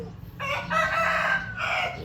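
A rooster crows while pecking, one long drawn-out crow rising and holding close by, over a low rumbling outdoor background.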